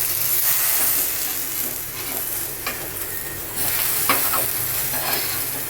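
Taro (alu) leaves frying in a little oil in a covered pan, a steady loud sizzle and hiss with a few stirring scrapes and crackles along the way.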